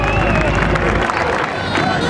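A crowd at a giants festival gathering in a town square applauds and cheers as the giants approach the stage, a loud dense wash of clapping and voices with a low rumble early on.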